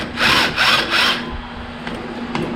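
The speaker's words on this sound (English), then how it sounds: "It's just a simple task of loosening one V-band, loosening two V-band" Loosening V-band clamps on the front end of an S14 car being readied for engine removal, likely with a power tool: three quick, close, loud whirring bursts in a row, followed by quieter faint clicks.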